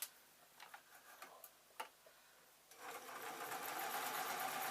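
A home sewing machine stitches fabric pieces for a simple owl, first after a few light clicks and taps, then running steadily and close up with a continuous whirring hum.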